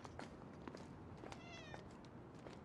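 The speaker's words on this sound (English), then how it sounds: "They obviously had to end it with the cat." A cat meows once, a short rising harmonic call against a faint, busy background with scattered clicks, moderately close and clear.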